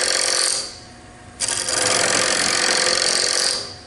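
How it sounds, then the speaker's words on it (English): A woodturning tool cuts across spinning wood in a short burst of harsh scraping that drops briefly, then resumes loud and steady before fading, with a bright ting as the edge is struck. "you can hear it ting at the very end, right as it's hitting that edge"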